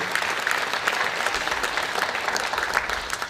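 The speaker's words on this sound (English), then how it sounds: "So a lot of applause for them as well as they sit here." Audience applause fills a school honor society induction ceremony, a dense, steady wash of many hands clapping at moderate level throughout.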